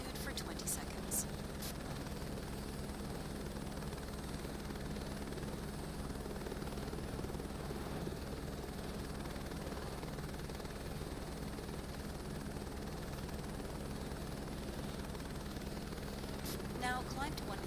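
Helicopter hovering in Microsoft Flight Simulator 2024, a steady close rotor thrum and engine whine held at an even level throughout, with a few faint brief clicks near the start and end.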